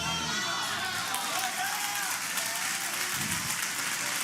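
A church congregation applauds in a large hall, a dense, steady wash of clapping and crowd noise that holds evenly throughout without pause.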